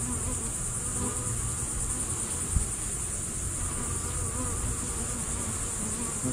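A dense, steady hum of many honey bees buzzing close by as hive frames are handled, continuous and even, with a single faint knock partway through.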